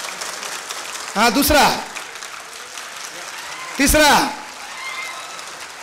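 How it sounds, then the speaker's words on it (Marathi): Students at a guidance event clap in short separate bursts, group by group. Someone speaks loudly between the rounds, with faint crowd murmur in the background. "मला फक्त या पोर्सनं टाळ्या वाजव, एवढेच जण टाळ्या वाजव."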